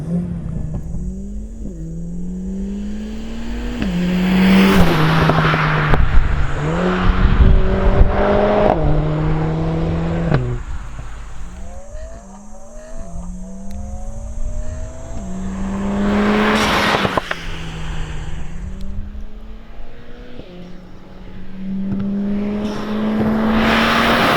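Mercedes-Benz A45 S hatchback accelerating hard, its loud exhaust rising through repeated gear changes with crackling shifts, heard close from inside the car with no talking.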